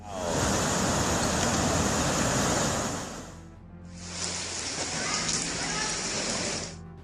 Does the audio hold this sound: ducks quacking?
no